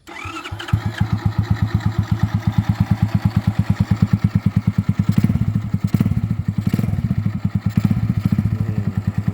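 A rebuilt Honda Chaly 110 cc motorcycle with an automatic gearbox starts up and settles into a loud, even thumping idle close by, with a few light throttle blips raising the beat midway.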